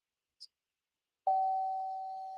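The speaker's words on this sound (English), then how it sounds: "it won't ding like that unless you set it up to ding like that" A doorbell-style ding notification sound effect: a tiny faint blip, then one clear bright electronic chime that rings out and slowly fades, alone in silence.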